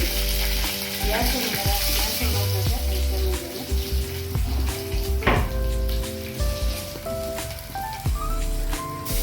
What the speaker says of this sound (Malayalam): കുറച്ച് കടുക് വറുക്കുക